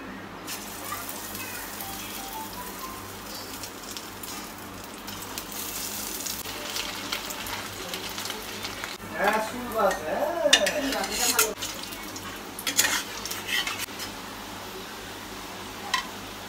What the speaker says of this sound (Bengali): এটাতে এগুলোকে আমি এখন ভেজে নেব